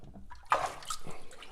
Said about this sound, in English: get some of that water drip off